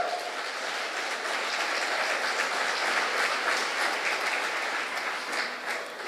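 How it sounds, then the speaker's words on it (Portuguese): A church congregation claps steadily and loudly throughout a worship service, a dense, continuous patter of many hands with no voices over it. "Se você crê, aplauda o nome do Senhor Jesus Cristo."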